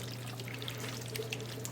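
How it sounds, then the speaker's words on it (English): Cooked pasta is poured and scraped into a greased casserole dish while a pizza pasta bake is made, giving a faint, soft, wet slithering with small clinks over a low steady hum. "Now pour your pasta into your prepared casserole dish."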